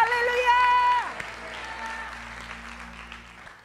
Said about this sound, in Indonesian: Tepuk tangan paling meriah buat Tuhan kita.